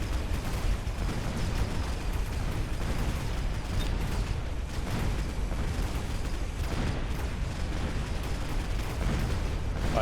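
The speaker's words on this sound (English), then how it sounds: "This guy is just casually shooting from the other side of the map." Long-range unit firing across the map in the Mechabellum strategy game, a continuous dense barrage of gunfire and mechanical blasts, loud and steady throughout, with no talk.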